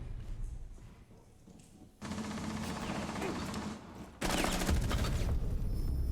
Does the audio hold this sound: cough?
no